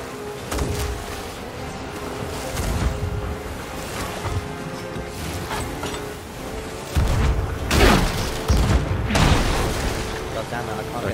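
Ship cannons boom in the pirate game Sea of Thieves over steady ocean waves and wind, with several loud low blasts spaced irregularly against the continuous wash of surf.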